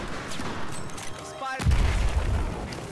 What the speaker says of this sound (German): Was ist gerade explodiert